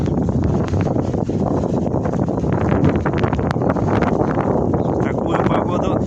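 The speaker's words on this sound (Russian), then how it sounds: "Зато буран какой." Blizzard wind in a village at about minus 4 degrees, roaring loudly and continuously across the whole stretch as a dense, gusting rush that buffets the microphone, with no talk.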